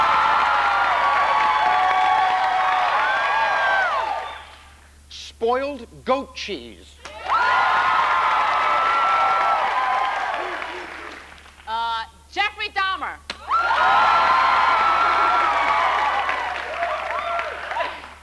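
Studio audience applause surges in three long sustained waves of dense, loud clapping and some cheering, separated by short gaps where someone speaks briefly.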